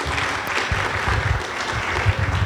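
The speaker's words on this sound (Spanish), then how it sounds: "Un aplauso" Applause fills a lecture hall after a talk on coagulation, dense and fairly loud, with many hands clapping continuously and occasional stronger bursts near the end.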